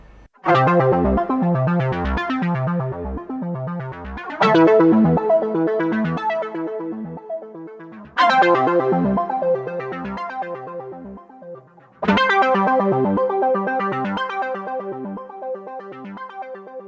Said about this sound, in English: Next patch is called Arpeggiator 3.